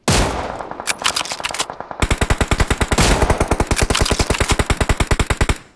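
Rapid bursts of automatic gunfire in a first-person shooting video game, loud and close, with sharp evenly spaced shots in long sustained volleys and a brief echoing tail, no talk over them.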